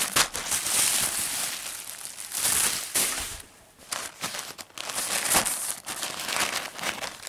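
Plastic foil packaging from a He-Man Masters of the Universe Classics toy crinkles and crackles loudly up close, in repeated handling bursts with brief pauses, and no one speaks.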